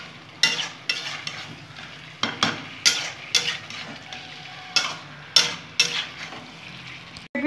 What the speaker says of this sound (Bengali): একটু কষিয়ে নেব মশলার সাথে।